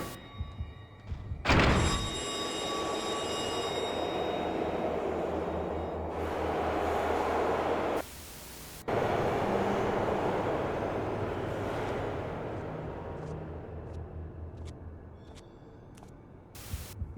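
A subway train in the video game Manhunt rumbles past as a loud, steady roar with rattling noise, broken by a heavy thump near the start and a short cutout midway, then gradually fading away.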